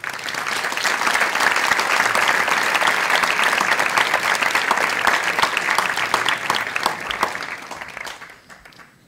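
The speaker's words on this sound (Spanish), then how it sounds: "un aplauso común, sentido y merecido para todos los que habéis organizado y participado en" A large audience at an awards gala applauds steadily and loudly for about eight seconds, the dense clapping holding strong before tapering off at the very end.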